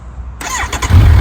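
A 2025 Kawasaki Ninja 1100SX with the standard Euro 5 exhaust cranks and fires up close by, catching after a short starter whine and settling into a loud, deep rumble.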